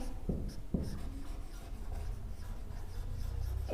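Marker or chalk strokes on a board during a biology lesson on cell structure: two sharp scratching strokes early, then softer continuous writing, close and clear with no talk.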